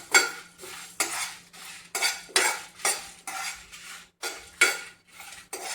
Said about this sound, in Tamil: இதை வறுக்கிறதுக்கு நமக்கு எண்ணெய் எதுவுமே ஊற்ற வேண்டாம் ட்ரை ரோஸ்ட்டாக